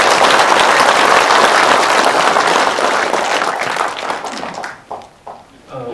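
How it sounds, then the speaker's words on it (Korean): A crowd at a Korean public lecture applauding loudly and steadily for several seconds, the clapping thinning to a few scattered claps at the end. "여러분 큰 박수 부탁드리겠습니다"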